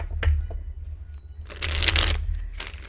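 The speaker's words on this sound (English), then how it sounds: "Let's put it like in the middle here and shuffle." A deck of tarot cards is shuffled by hand, with a brief riffle early on and then a longer, louder flurry of papery card shuffling close to the microphone.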